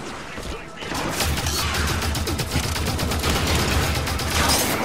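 Sustained suppressive automatic gunfire in the video game Halo 5: Guardians, dense rapid shots and impacts continuing loudly throughout, with voices speaking over the combat.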